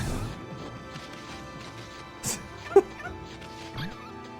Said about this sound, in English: You can shock dogs by giving them a bark.